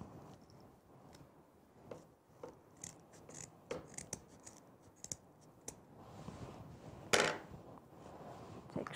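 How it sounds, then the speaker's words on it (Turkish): Scissors snipping off leftover thread while making tourist souvenir crafts, a series of faint, sparse clicks and small cuts at close range in a quiet room. "kalan ipimi kesiyorum."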